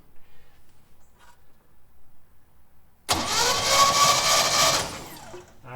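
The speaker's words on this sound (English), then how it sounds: "I'm going to turn the truck over and make sure the rotor's turning." A 1970 Chevy C10 pickup engine with a spark problem cranks over suddenly after a quiet stretch, a loud, close, continuous starter whir that runs for about two seconds and then drops away.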